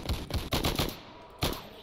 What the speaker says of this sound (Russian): Новая пушка действительно неплоха.